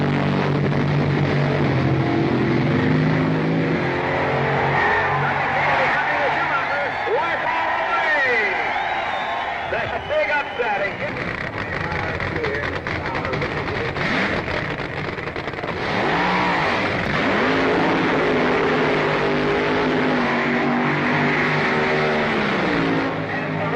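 Drag racing cars roar at full throttle at the 1969 US Nationals, loud continuous engine noise with sweeping pitch changes as cars accelerate past, over a crowd and announcer talk.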